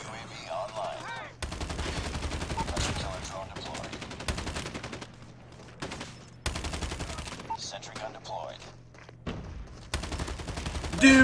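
Automatic weapons fire in COD Mobile's 10v10 mode, coming in repeated rapid bursts that start and stop abruptly across the stretch, with faint voices underneath.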